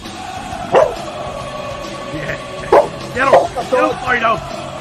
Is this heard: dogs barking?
yes